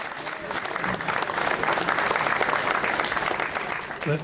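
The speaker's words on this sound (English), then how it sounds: "Give him a round of applause" An audience applauds steadily for a guest at a speedway press and practice day, broad sustained clapping with a little crowd murmur, filling the space fairly loud throughout.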